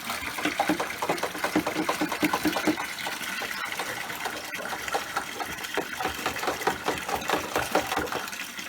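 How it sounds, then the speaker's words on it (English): Dirty water from a koi pond holding tank rushes and gushes steadily through an open valve, a continuous churning flow with a busy, bubbling texture, fairly close and unbroken throughout. "open the valve, and that will loose all the gunky water out"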